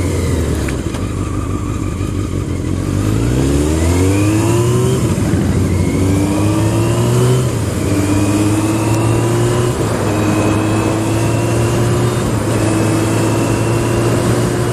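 A motorcycle engine revs hard under acceleration, loud and close, climbing in pitch through several gear changes, each shift dropping the tone before it rises again.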